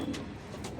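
Pigeons at a pigeon farm give soft, faint cooing, two brief low coos in quick succession with a quiet background.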